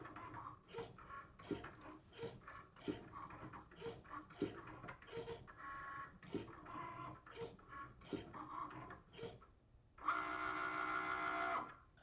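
A Cricut machine foiling cardstock with a foil tool makes quiet, rhythmic ticking and whirring pulses as the carriage moves back and forth, ending in a sustained louder motor buzz.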